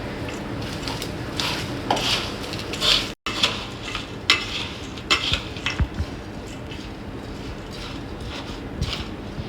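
A spoon stirs and scrapes through spicy chaat with sliced onions, lemon juice, chili powder, chaat masala and coriander powder in a bowl, giving irregular close clinks and scrapes against the dish with soft, wet mixing between them.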